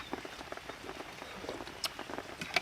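Light rain falls outdoors in the rainy season, soft scattered drops pattering irregularly at low level with a few sharper nearby plinks over a quiet background.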